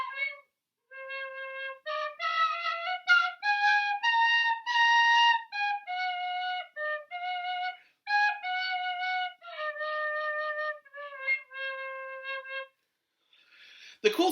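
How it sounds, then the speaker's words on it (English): An Irish tin whistle plays a clear, bright melody of sustained and stepped notes with short pauses between phrases, close and solo with no talk. "It's called a penny whistle or a tin whistle,"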